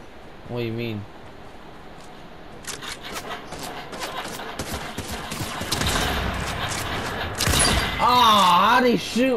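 Fortnite gunfire in a 2021 match: dense bursts of sharp shots crackle through the middle of the clip, loud and close, with a player's voice briefly heard at the start and end.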